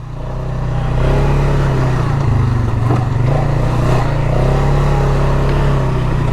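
A Polaris Sportsman ATV engine drones loudly and steadily while driving, a close, continuous low rumble that swells slightly in the first second and holds, with minor variations in pitch.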